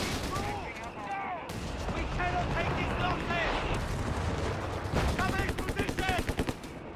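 In a World War II strategy video game, an artillery barrage pounds the battlefield and sets off a mine, with rapid gunfire, booming impacts and explosions layered densely under a commentator's voice.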